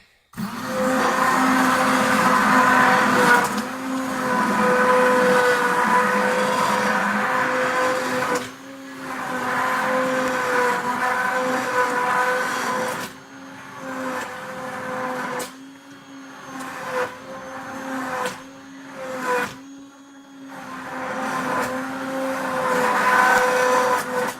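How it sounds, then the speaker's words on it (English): An electric stick blender whirs loudly in long bursts, mixing hot-process soap, its motor hum cutting in and out several times with short pauses between runs. "So now take your stick blender."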